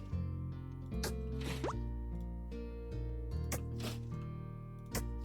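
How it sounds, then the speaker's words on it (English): Crops being watered in a farming roguelike video game: soft plopping, dripping splashes repeat every second or so over steady game music. "Okay, should just water everything. Make sure everything's watered."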